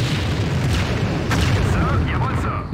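In the strategy game Empire Earth, a tower collapses with a deep booming explosion that rumbles on loudly and continuously, followed by lighter crumbling debris.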